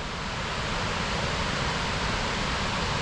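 Fukuroda Falls in Ibaraki, a large waterfall heard from directly above, gives a steady, broad roaring rush of falling water with no letup, loud and continuous throughout.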